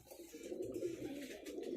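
A domestic pigeon coos in a low, soft, steady murmur, close and continuous, with a little faint background rustle and no speech.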